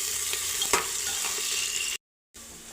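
Onions and cumin sauté in hot oil with a steady, close sizzle and a few sharp scrapes of stirring. The sound cuts out completely for a moment before the frying resumes.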